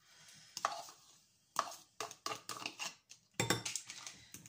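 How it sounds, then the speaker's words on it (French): A knife cuts soft ricotta cheese into pieces on a board, giving a few separate soft, close chops and squishy cuts in short bursts with pauses between, and no voice. "je vais juste prendre ma ricotta comme ça, la couper un petit peu en morceaux"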